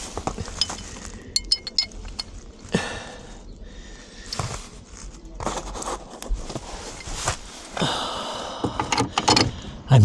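Metal nuts and bolts clink and rattle as they are fitted through aligned holes, a close series of irregular sharp taps and scrapes with handling noise between them.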